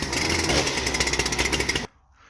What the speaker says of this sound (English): making a couple cuts with the 881